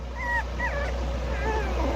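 A small dog whimpers and cries in a series of high, wavering whines, close and fairly loud over a steady low hum, with no talk.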